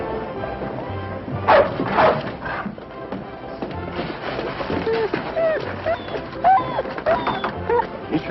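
A dog barks a few times in a 1952 film scene, short yips and woofs mixed with cooing birds while people talk.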